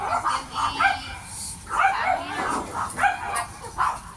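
A dog yips and barks in short repeated bursts, fairly close, with some whimpering mixed in and faint voices in the background.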